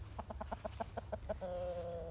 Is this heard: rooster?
yes